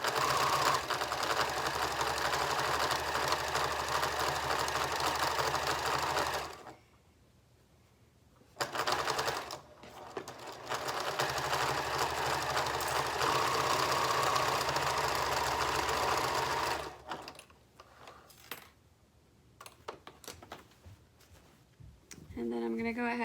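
Sewing machine stitching a 1/2 inch seam on fabric pieces for a fabric bin, running in long steady buzzing bursts with brief pauses for back stitching, loud and close, with a voice talking over parts of it.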